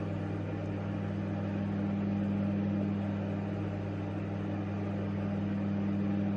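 A microwave oven running with a steady, even mechanical hum and whir, close and constant throughout with no breaks and no voices.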